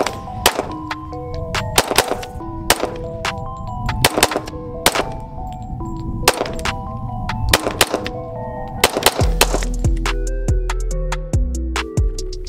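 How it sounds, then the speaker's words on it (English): A .40 caliber Glock 22 fires at cardboard targets in a quick series of sharp, loud shots with clear gaps between them, ringing metallic echoes trailing each one; no one speaks. "Let's give it a try with a 40 caliber in Glock 22."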